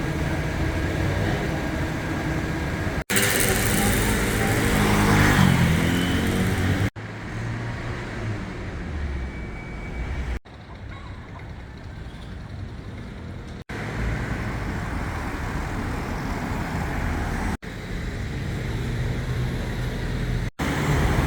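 Cars pass through the evening streets of Papeete, Tahiti, giving a steady drone of road traffic broken into short segments, with one louder rush as a vehicle goes close by. No one speaks.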